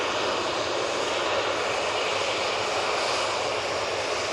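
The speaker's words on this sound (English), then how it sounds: "Let's go on to this Ryanair coming on in front of us." A Ryanair airliner rolls past at Manchester Airport, a continuous close jet roar with a broad hiss, loud and even throughout, with no talking.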